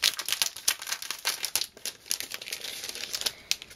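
Close crinkling and crackling of plastic packaging being opened around a pack of double-sided permanent adhesive sheets, irregular rustles and small tears throughout, no talk.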